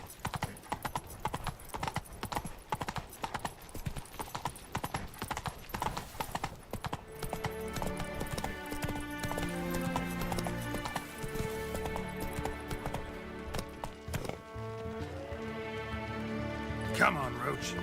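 Horse hooves clip-clop steadily on the ground in The Witcher 3: Blood and Wine, a continuous rhythmic trot under game music, with a brief whinny and someone speaking over it.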